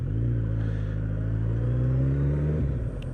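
A Fiat Tipo car passing along a street in Glenrothes, its engine rumble loud and near, holding steady before tapering off as it moves away.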